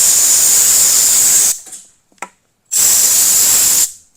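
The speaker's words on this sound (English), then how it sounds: "Let's give it a spoosh of air." Two bursts of compressed air spray hiss loudly at close range while cleaning an old Commodore Datasette during a repair, the first lasting about a second and a half, a tiny puff between, then a second burst of similar length.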